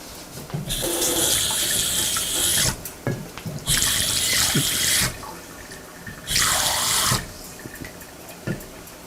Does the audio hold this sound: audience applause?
no